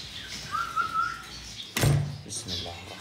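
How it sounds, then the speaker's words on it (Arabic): Noisy lovebirds chirping indoors in a bird room, a thin high chirp early on followed by a sharp thump and a few fainter calls. "إزعاج طيور حب، إزعاج صار ما ينفعن عليها شيء."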